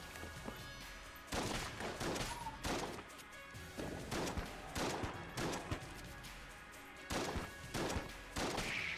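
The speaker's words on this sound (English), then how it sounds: "we got to use the sawed off a little bit more" Sawed-off shotgun blasts in the video game Enter the Gungeon, firing in rapid uneven bursts of loud sharp shots with crashing impacts over a steady game soundtrack.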